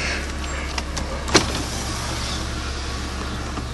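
Electric power window motor of a 1992 Honda Prelude with an H22A swap runs with a steady whirr under a low idling engine hum, with a sharp thump partway through.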